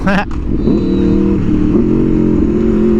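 An Aprilia motorcycle engine is close and loud. A sharp rev spike at the start settles into a strong harmonic drone whose pitch shifts as gears change.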